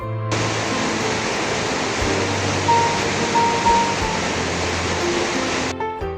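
The Hermon Stream, at the base of Mount Hermon in the Golan and one of the main feeders of the Jordan River, rushes in a steady, dense roar of flowing water, close and loud with no voices.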